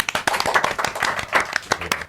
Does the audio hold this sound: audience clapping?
yes